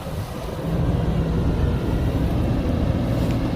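A Kobelco 140LC-8 excavator's Mitsubishi turbo diesel engine rumbles steadily close by, a low, continuous drone that swells slightly after the first half second and then holds level.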